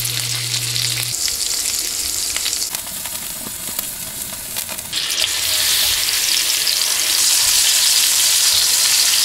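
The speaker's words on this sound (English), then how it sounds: "I'm going to fry that up in 1 ounce of rendered beef fat in a cast iron skillet" Beef fat trimmings frying in rendered beef fat in a cast iron skillet, producing a loud continuous sizzle and crackle that swells louder toward the end, no talking.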